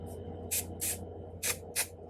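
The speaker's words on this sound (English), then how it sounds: "It's so easy just to spray this and go." Jet Set Invisible powder spray hisses from a can in short bursts, about five quick close sprays separated by pauses, with a low background hum beneath.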